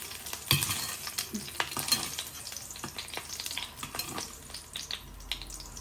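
Oil sizzles steadily as food fries, with crackling pops and a few soft stirring scrapes throughout.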